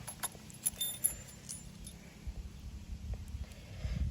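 A single motorcycle key on a Yamaha TZR150 jangles in short, faint metallic clinks near the mic, over a low background rumble.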